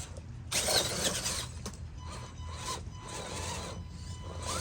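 A sealed-can 550 motor drives an RC rock crawler over terrain with a chunky, uneven power delivery, heard alone as rough, rasping motor whine and grinding bursts that rise and fall in close, moderately loud spurts.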